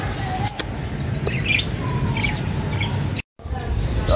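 Parrots kept in a cage at a zoo chirp and tweet in short bursts, with faint talk and wing flutters amid a steady ambient background.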